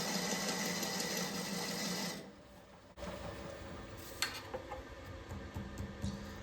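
A lathe turns a hollow, fluted wooden table pedestal while a tool takes a slow cut, giving a steady whirring hum that turns into lighter, intermittent ticking and scraping.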